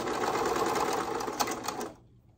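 A serger sewing machine runs steadily with a fast, even mechanical whir, then cuts off abruptly near the end, leaving quiet.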